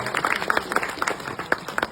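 A stand-up comedy audience claps, a short burst of scattered, uneven hand claps from a crowd in a small venue.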